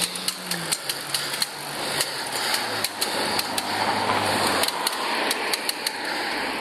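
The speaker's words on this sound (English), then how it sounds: "the creaking noise that you can hear, that's coming from my bike, and most of it's actually the joint between where my seat connects" A bicycle seat joint creaking during a city commute, heard as regular sharp ticks and creaks repeating with each pedal stroke over steady road and traffic rumble, close and fairly loud.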